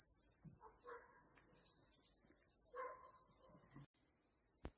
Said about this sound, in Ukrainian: Місцеві собаки також бажають нам гарного дня.